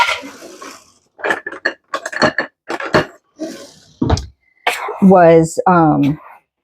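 Metal spoons and utensils clink and rattle in a kitchen drawer while someone fetches a bigger spoon, a few sharp close clatters mixed with talking.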